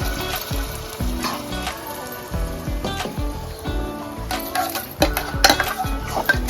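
Tomatoes fry in a pan for palak paneer, sizzling steadily with repeated stirring scrapes and clinks of the spoon against the pan, and no voices.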